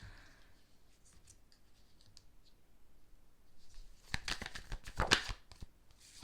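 Tarot cards are taken out and handled in a quiet room, with soft shuffling, tapping and brief rustles that grow into a louder burst of close card clatter and flicks near the end, with no talking.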